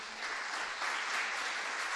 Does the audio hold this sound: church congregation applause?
yes